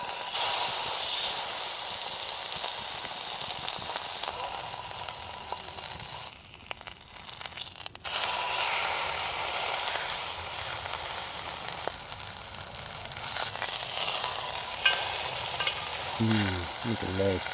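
Fatty side of meat searing in a cast iron casserole dish, a continuous close sizzle and hiss of rendering fat with brief shifts as the meat is moved around.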